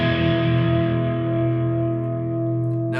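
Electric guitar played through a chorus pedal with a boost engaged, a sustained shimmering chord with wavering modulation and mild grit, ringing steadily and close, fading slightly toward the end.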